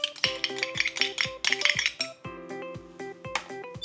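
A spoon clinks rapidly and rhythmically against a bowl while soy sauce, sushi vinegar, sugar, mirin, sake and doubanjiang are stirred together, with bright close metallic taps and no talking.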